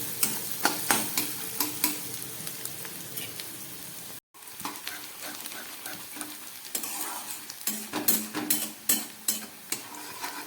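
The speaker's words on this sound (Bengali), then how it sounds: "পেঁয়াজটাকে খুব ভালো করে লাল করে আমি ভেজে নিচ্ছি।" Onions fry in a pan until browned, with a constant sizzle broken by rhythmic, distinct stirring scrapes that grow more frequent toward the end.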